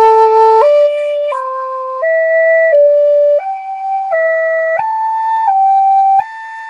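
Native American flute plays a minor pentatonic pattern in clear, sustained tones that step and jump between pitches, about ten notes in an even, unhurried rhythm, close and alone with no talk.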